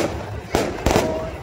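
Firecrackers bursting at an outdoor wedding procession, two sharp cracks half a second apart standing out over a dense crowd roar.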